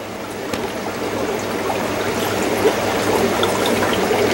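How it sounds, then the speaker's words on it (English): Old aquarium filters set in a funnel over a gallon jug, water trickling and dribbling through them in a steady, close, continuous patter with no talk. "We're going to let them drip for a bit."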